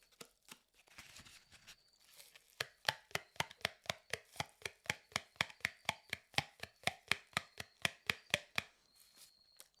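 Rolled cardboard improvised as a jaw harp, struck over and over with a curved stick, giving a quick, steady run of sharp, twangy plucks that comes in close and loud after a few hesitant hits, with no talk.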